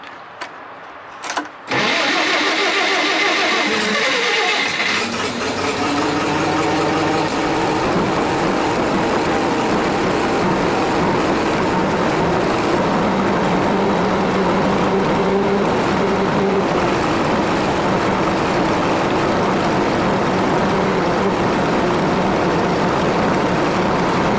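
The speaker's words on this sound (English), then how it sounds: "I'm gonna fire the crane up" An 85RM2 crane engine cranks with a few short bursts, then catches and settles into a loud, continuous rumbling run that carries on steadily for over twenty seconds, alone without talk.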